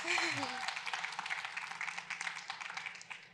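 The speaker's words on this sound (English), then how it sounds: "A round of applause." A short bit of voice at the start gives way to an audience clapping, a steady patter of applause with some sharper individual claps.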